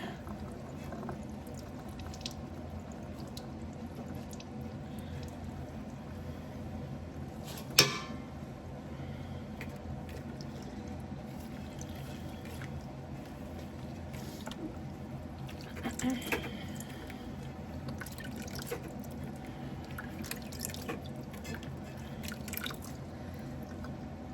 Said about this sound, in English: we're going to just rinse and squeeze out the water on all of it